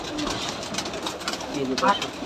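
Giribaz pigeons at a pigeon farm coo softly amid a busy, noisy background, with voices speaking over the birds throughout.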